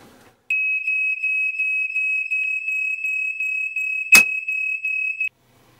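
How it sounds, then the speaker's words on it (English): A hard-wired smoke alarm shrills after its test button is pressed: one loud, steady high-pitched tone pulsing rapidly for about five seconds, then cutting off. "I'm now going to simulate a fire by pressing the test button on the smoke alarm."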